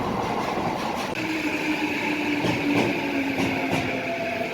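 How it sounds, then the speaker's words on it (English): A subway train arriving at a station in Tokyo near Nakano rumbles and rolls along the track, a steady loud mechanical roar with faint clicks of wheels, no voices. "And wouldn't you know it, that's our train."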